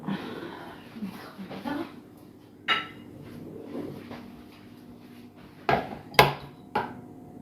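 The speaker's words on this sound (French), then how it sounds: "je vais mettre tout ça à la vaisselle" Dishes and utensils clatter in a home kitchen while pancake-like cakes are being made, with scattered clinks and knocks, a few sharper close clatters standing out, over a steady background hum.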